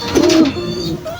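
A racing pigeon arriving at its loft during a derby coos close by in a short, low throaty burst, with faint background noise.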